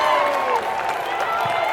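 Basketball crowd at a college tournament championship game applauding and cheering after a two-hand dunk, a steady wash of clapping and voices under a commentator's speech.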